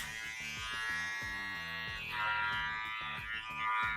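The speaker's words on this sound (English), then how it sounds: "then I'm gonna do my 0 and below, which is 0 trim and shaver" A close electric shaver buzzes steadily, trimming hair down to zero for a taper fade, its motor hum wavering slightly in pitch as it moves across the head, with no voices.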